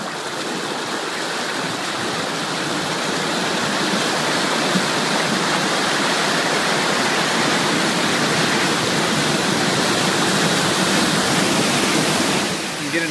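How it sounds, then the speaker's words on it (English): Water falls steadily into the gullet of a granular media filter during backwash drawdown, a loud, continuous rushing splash that runs the whole time with no pauses. "we can see the drawdown happening. The water is slowly falling down."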